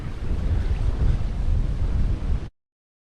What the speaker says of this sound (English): You can see the umbrellas blowing in the wind.